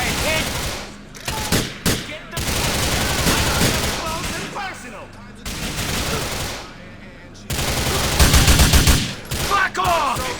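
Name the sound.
gunfire in the video game GTA 4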